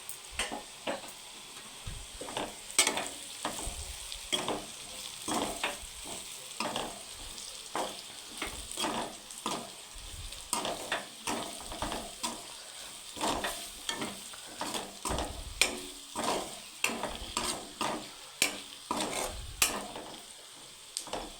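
Ivy gourd fry sizzling steadily in a pan while a spoon stirs and scrapes in repeated quick strokes, close and moderately quiet, with no voices.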